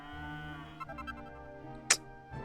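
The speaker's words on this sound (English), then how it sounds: "Thank you, cow." A cow in the Dragon Quest video game gives a short, low, sustained moo over quiet game music, followed by a brief bright chime.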